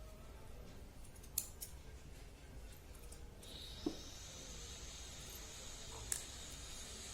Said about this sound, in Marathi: हे जे दोरे असतात ना, हे कापून घ्यायचे.